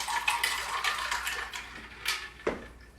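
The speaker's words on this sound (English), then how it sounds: "All right, so I'm gonna give it a pour" An orange juice, schnapps and vodka cocktail is poured from a large shaker, giving a close, steady splashing trickle with faint clinks of glass and ice.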